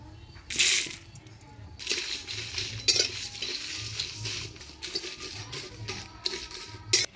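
Coriander, cumin and fennel seeds dry roasting in a pan, with a soft crackle, intermittent scraping and metallic stirring clinks against the pan, moderately close and without talk.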